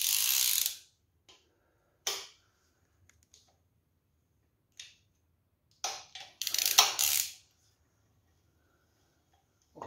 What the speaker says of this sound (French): Le principe c'est de serrer en croix à l'extérieur puis l'intérieur.